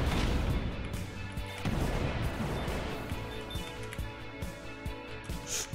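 Laser gun shots in a retro arcade-style space shooter, a rapid string of sharp zapping blasts and crashes over busy game music, fairly quiet overall and thinning toward the end.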